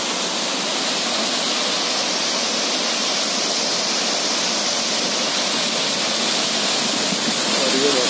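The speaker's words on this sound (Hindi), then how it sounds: "और ये वाटरफॉल देखिए" A large waterfall on the Kinnaur route to Sangla gives off a steady, loud, broadband roar that carries on unbroken throughout.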